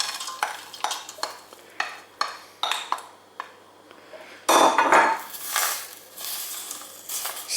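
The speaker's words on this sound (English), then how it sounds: "Stir this and leave on a low heat for about 3 minutes while the fruit softens." A spoon stirs raspberries through sugar syrup in a pan on low heat. Regular, close clinks and scrapes against the pan come about twice a second, then give way to a louder, denser swirl of liquid and fruit.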